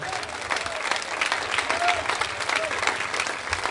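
Steady applause from a church congregation, continuous clapping at an even level throughout with no pauses.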